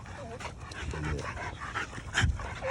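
An American Bully dog pants and gives soft whimpers close by, with a brief louder yip or whine near the end over a low background rumble.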